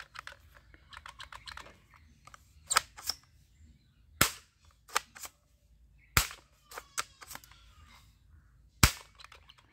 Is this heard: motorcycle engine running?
no